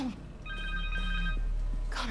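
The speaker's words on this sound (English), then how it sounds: "Connor's cell phone." A cell phone rings in the Spider-Man 2 video game, giving a short electronic ring tone that sits over a low, steady game background hum.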